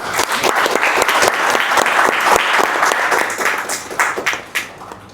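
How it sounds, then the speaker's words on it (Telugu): An audience at a business meeting breaks into loud applause, dense clapping from many hands that holds steady, then thins and fades toward the end. "Let's clap for them."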